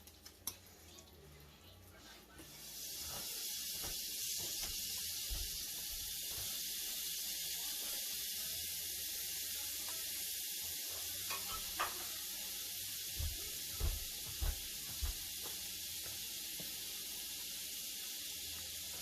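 Remaining butter dropped into a hot pan for Salisbury steak sets off a steady, close sizzle and hiss that holds for most of the stretch, with a few soft clicks and pan knocks underneath.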